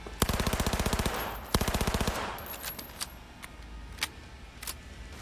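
Rapid bursts of pistol fire from the burst pistol in Cyberpunk 2077, two quick strings of sharp shots early on, then scattered single shots and clicks over a faint game background.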